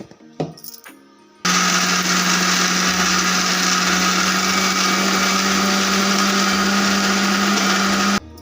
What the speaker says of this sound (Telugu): కొంచెం వాటర్ వేసేసుకొని మిక్సీ పట్టేద్దాం